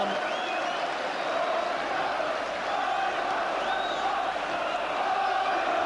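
Dense crowd noise from 5,000 Newcastle United away fans chanting and roaring at a 1982 football match at Rotherham United, a steady loud wall of voices with occasional whoops rising above it.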